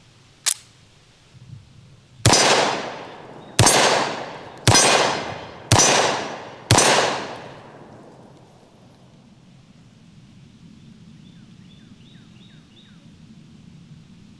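Six sharp gunshots from a double-barrel 1911 pistol in .45 ACP, one isolated shot followed by five evenly spaced loud reports, each ringing out with a decaying echo before quiet ambience.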